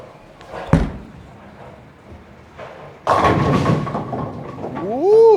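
A freshly sanded Hammer Scorpion Strike bowling ball thrown down a lane, landing with a sharp thud and then rolling into a loud, sustained rumble of pin-and-lane noise.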